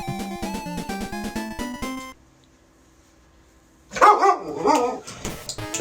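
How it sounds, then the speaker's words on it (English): Several dogs bark excitedly in a loud, dense burst near the end, following music and a quiet pause, at a televised American football broadcast. "The dogs are clearly excited about it."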